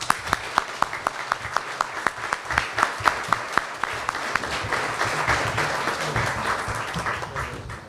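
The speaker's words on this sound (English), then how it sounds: "And one more round of applause for all of them, please." An audience at a police department promotional ceremony applauds the promotees, starting with distinct, evenly spaced claps that swell into a fuller, continuous round of clapping before easing slightly at the end.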